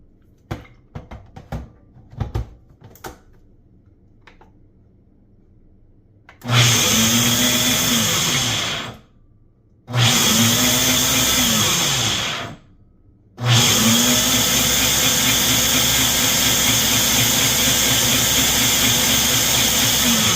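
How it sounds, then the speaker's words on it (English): A blender whirs loudly at close range through blackberry chia pudding with sweetener, running in three bursts with short pauses between, after a few light clicks and knocks of setup. "And let's get that blended up."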